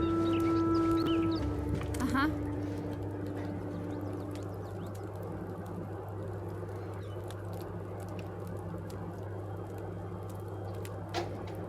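Chickens cluck and patter in the video game RuneScape: Dragonwilds, fairly faint beneath a steady game background hum, with a brief rising tone near the start.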